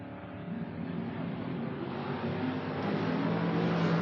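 A drag racing car at a creek-side drag strip event holds a steady, loud engine roar that builds slightly in intensity and rises a little in pitch over several seconds, with no talk.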